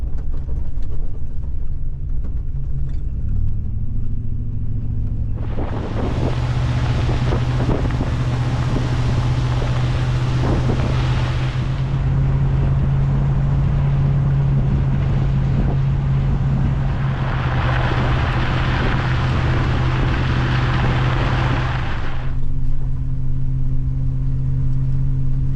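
An off-road rig grinds along a soft, washed-out mountain road, with a low steady engine drone and two long stretches of loud rushing wind and crunching roll, close and continuous.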